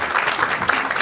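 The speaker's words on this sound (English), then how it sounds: "So please give her a big round of applause" A crowd at a fundraiser in Los Angeles applauds a speaker, a steady, dense wash of clapping that holds at an even level across the whole moment.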